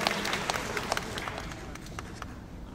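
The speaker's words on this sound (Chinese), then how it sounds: "我们再次掌声鼓励一下" Audience applause at a baseball fan meeting with pitchers answering fan questions: steady, dense clapping from an indoor crowd that keeps going throughout at moderate loudness, with scattered sharper claps standing out.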